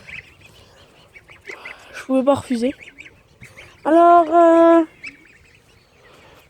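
Ducks quack loudly nearby in two noisy bursts, with a person speaking quietly around them.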